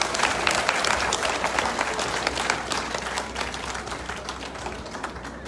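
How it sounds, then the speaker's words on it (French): A crowd at a Paris gathering of the African and Ivorian diaspora applauds the Front populaire ivoirien with sustained, dense clapping that fades slightly toward the end. "Il faut applaudir le Front populaire ivoirien, s'il vous plaît."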